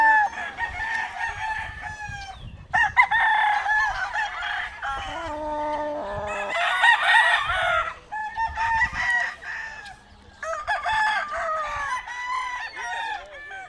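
Several roosters crow in turn, loud and close, with long rising and falling calls, brief clucks and scattered farmyard noises between them.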